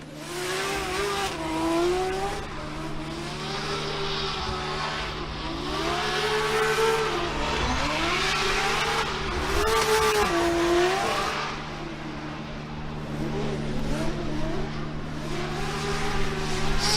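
Formula Drift race car engines at Long Beach roaring and revving with tires squealing through slides, a constant loud drone with rising and falling engine pitch, no voices.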